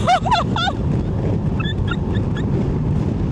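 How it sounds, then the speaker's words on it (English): Strong wind roars steadily against the microphone during motorcycle touring in Türkiye, a dense low rumble, with faint chirping bird calls at the start and again partway through. "that is big wind"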